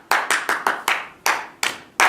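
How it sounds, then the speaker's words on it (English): Rhythmic thank-you clapping from a Rwandan audience after a play, about eight sharp, close group claps in an uneven beat, with short gaps between them. "that's a thank you clap that they do in Rwanda."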